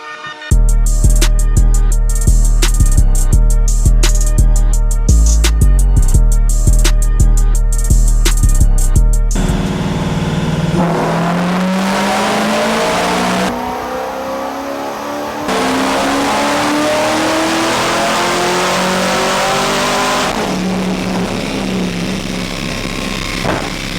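A Corvette on a dyno sends choppy bursts of engine revs in stepped pulses, then a long pull as the engine climbs steadily in pitch, loud and close, with no voices.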